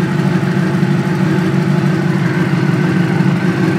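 A motorcycle engine idles steadily after the choke kicks off, a constant low rumbling drone that holds an even pitch and volume throughout, close and loud.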